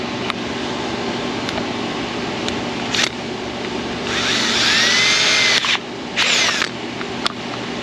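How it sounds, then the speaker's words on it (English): A power drill bores straight through metal rivets, a steady close mechanical whine running throughout, with several louder bursts as the bit bites and breaks through, plus a few sharp clicks. "It doesn't drill rivets out, it drills right through them."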